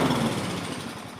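Small engine running steadily and loud up close, a continuous mechanical drone after a carburetor swap that keeps stalling, with no one talking over it.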